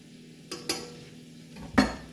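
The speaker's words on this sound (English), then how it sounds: "Stir some of this around." Food being stirred in a cooking pan at home, with a few soft scraping strokes of a utensil at intervals over a quiet background hum.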